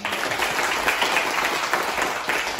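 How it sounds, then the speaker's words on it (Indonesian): A school assembly crowd in Agats, Indonesia applauds steadily, dense clapping filling the whole stretch at an even, fairly loud level. "Tepuk tangan"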